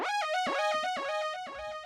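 A super crazy, mighty synth lead from an Analog Lab bank plays a short phrase of repeated notes that dip down and climb back up, bright and buzzing with rich harmonics, loud and alone.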